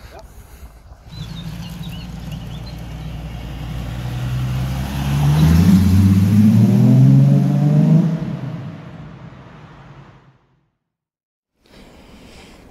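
A VW Golf VR6 with a 65mm stainless steel exhaust accelerates past, its engine roar swelling to a loud peak and then fading out, followed by a brief quiet.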